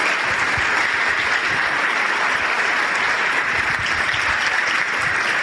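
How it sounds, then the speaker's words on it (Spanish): Applause of thanks from a seminar audience in Armenia, a dense, steady wash of many hands clapping that fills the room continuously without a break. "Yo les pido para todos estos líderes un gran aplauso de agradecimiento."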